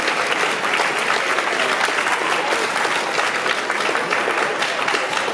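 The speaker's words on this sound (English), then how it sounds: "let's have a round of applause for our top three senior science students" A school honors assembly audience applauds the top three senior science students with loud, thick, continuous clapping that stays full and even from start to finish.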